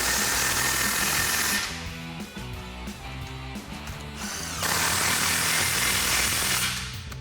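An impact wrench tightens 15 mm nuts on an exhaust clamp while an MBRP dual exhaust goes onto an EcoBoost F-150, giving loud close bursts of rapid hammering with a brief quieter gap midway.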